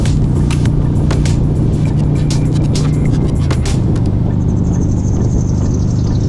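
A Ford Mustang motorcycle ridden hard on Route 16, a country backroad, with a loud sustained engine drone and heavy wind roar close to the rider, pulling strongly without pause.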